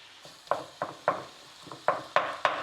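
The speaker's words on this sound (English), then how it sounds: "So we'll just keep stirring that around" Mince browning in a pan over medium gas heat, stirred with a utensil in irregular scraping strokes about every half second, each stroke with a short crackle of frying, close and moderately quiet, no talking.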